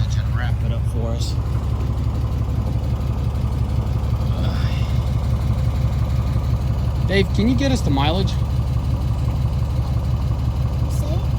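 A 2020 Ram 3500 with the 6.7 Cummins diesel and a bad hydraulic lifter idles steadily and loudly, a constant low rumble with rhythmic ticking running throughout, while people talk over it.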